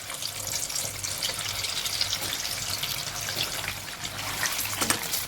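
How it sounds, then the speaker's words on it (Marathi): Small crispy methi sabudana pakoras drop into hot oil and fry. A continuous, bright sizzle of bubbling oil runs throughout with small crackles and pops, close and fairly loud, with no talk. "तेल तापलंय. त्यामध्ये आपण हे पकोडे छोटे छोटे सोडूया."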